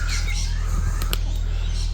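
Backyard pet chickens squawk in short bursts over a constant low mechanical hum from tree removal work nearby.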